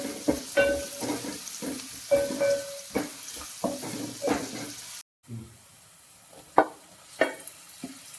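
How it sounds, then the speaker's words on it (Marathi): Onion, garlic and curry leaves frying in a pan and being stirred, bursts of sizzle and scraping strokes repeating close by, with a brief gap near the middle; someone talks over it at times. "कांदा लसूण आणि कढीपत्ता टाकते. चांगलं फिरवून घ्यायचं आहे."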